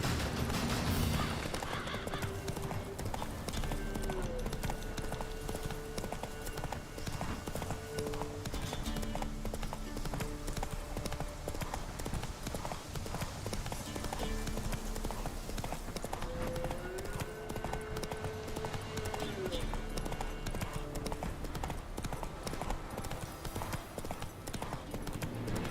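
A horse gallops in The Witcher 3 game, a fast continuous clip-clop of hooves running steadily for the whole stretch. Music tones play over it, with a short neigh.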